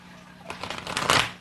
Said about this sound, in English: I'm going to shuffle my Messenger Oracle deck now